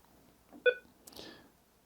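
A Radioddity HD 2 waterproof FRS walkie-talkie gives a short, faint electronic beep warning of low battery, followed by a soft brief chirp in a quiet room.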